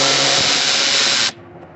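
A power tool whirs steadily and loudly at close range while removing a 10 mm bolt on a 2003 Nissan Frontier 2.4 during air conditioning condenser replacement, then cuts off abruptly, leaving a low hum.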